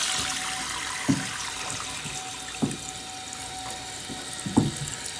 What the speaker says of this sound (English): See, the fill valve is filling the tank.